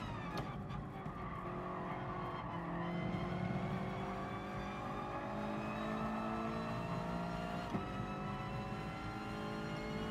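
A Mustang in a race slides and skids as its driver struggles for grip, engine droning loudly with rising and falling pitch over a steady rumble, continuous throughout with no voices.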